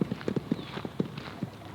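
Hooves clip-clop at a steady walking pace on a hard surface, a close, rhythmic series of hollow knocks with faint ambient noise.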